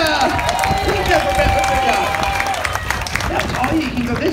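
A crowd at a children's science show at an ostrich festival cheers and claps for a young volunteer, a lively burst of applause and whoops mixed with voices and chatter throughout.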